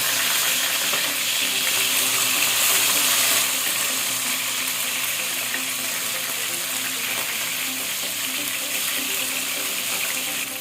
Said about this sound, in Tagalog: brown na po yung both side ng ating fish na gi-fry